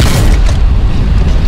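A tank cannon round strikes its target in Hell Let Loose on the Foy map, a loud, heavy low boom with a rumbling, sustained impact that fills the whole moment.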